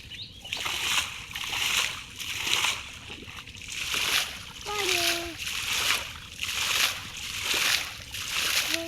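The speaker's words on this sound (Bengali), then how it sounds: "বাবা এখানে সেচতেছে" Water bailed out of a shallow fish pond, splashing in a regular rhythm about once a second, near and moderately loud, with voices, including a child's, talking in the background.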